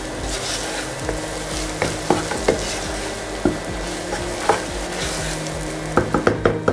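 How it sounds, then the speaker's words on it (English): Powder masala is stirred into a sizzling curry base in a pan for an Awadhi mutton korma, the constant frying hiss broken by repeated scraping knocks of the spoon against the metal, sharper near the end. "Mix this all really well."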